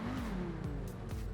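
Pegassi Torero XO supercar engine in GTA 5 Online, a close, steady idle rumble that rises in pitch in short revving swells, with sharp bursts partway through.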